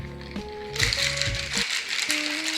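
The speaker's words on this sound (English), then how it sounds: "Okay, so I'm putting my little top on. We're gonna get to shaking." A cocktail shaker holding a strawberry chocolate martini rattles with ice, a loud, close burst of rapid shaking clatter, preceded by faint background music.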